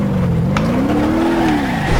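A damaged, dented muscle car with broken suspension drives on in a video game, its engine a loud, steady drone that rises gently in pitch and then levels off.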